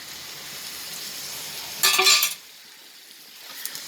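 Tomatoes hit hot oil while dried turkey berry kuzhambu is being cooked, giving a sudden loud sizzle that lasts about half a second and then settles to a faint, steady hiss.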